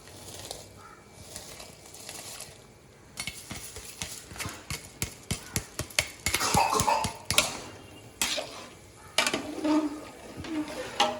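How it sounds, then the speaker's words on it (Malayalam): Rice being tipped into a pot of chicken biryani and stirred, with a run of scraping, clattering spoon-on-pot strokes that grow busier and louder toward the end, close up and with no talking. "അരിയിട്ട് എന്നിട്ട് നന്നായിട്ട് ഇളക്കി കൊടുക്കുന്നുണ്ട്"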